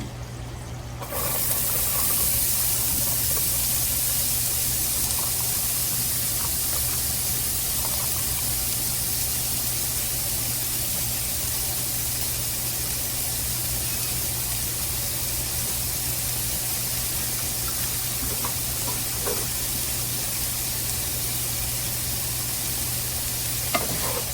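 Chopped onion sautéing in a pot with leftover drained ground beef fat, a steady close sizzle with stirring scrapes, starting after about a second and continuing evenly throughout, no talking.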